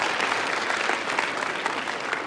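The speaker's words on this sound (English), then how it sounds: "give a round of applause for that" Steady audience applause fills a school recognition event, a dense, even wash of clapping from a sizable crowd with no voices over it.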